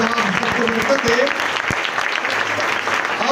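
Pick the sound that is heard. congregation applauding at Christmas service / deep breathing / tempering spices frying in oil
congregation applauding at Christmas service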